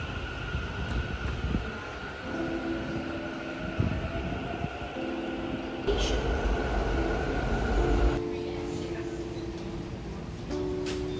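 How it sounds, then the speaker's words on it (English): Aboard a train in Taiwan heading to Tainan, the carriage gives off a steady rolling rumble with wheel hum and whining motor tones that rise and fall, plus occasional clunks, continuous throughout with faint speech in the background. "We are taking yet another train, but this time we are going to the city of Tainan."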